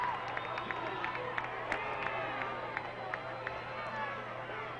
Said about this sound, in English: Fans giving a good hand and cheering loudly.